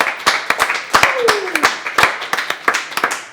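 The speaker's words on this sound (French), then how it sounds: "On peut applaudir Gilbert Couture." Dinner-show audience clapping for performer Gilbert Couture, sparse uneven claps with distinct individual hits rather than a full wash, with a voice briefly sliding over the top.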